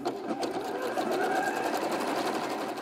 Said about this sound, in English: we're going to sew that entire line down all the way around.